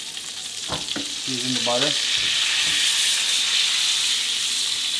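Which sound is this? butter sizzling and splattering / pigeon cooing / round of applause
butter sizzling and splattering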